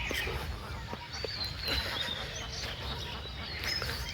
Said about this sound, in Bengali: নদীতে অনেক হাঁস।